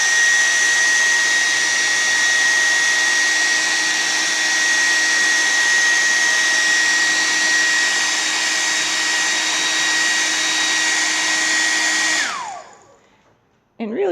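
A hot air blower heats a piece of crochet work, giving a loud, steady whirring rush with a high whine that runs continuously before winding down and cutting off near the end.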